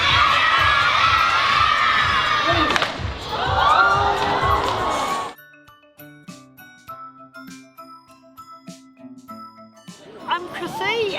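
Audience at a pet and animal expo, with many children among them, shouting loudly together, then a quieter stretch of scattered sounds before more voices return.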